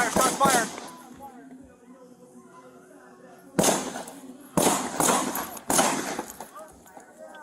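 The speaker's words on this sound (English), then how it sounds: "Shots fired!" Several sharp, loud bangs of gunfire, a burst near the start and three more spaced blasts later, with shouting voices between them.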